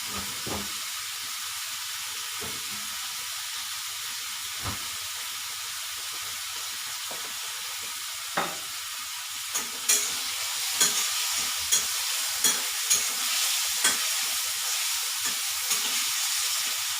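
Ingredients for bread upma frying and being stirred in a pan, a steady sizzling hiss with scattered scrapes and clacks of the spoon, growing busier in the second half.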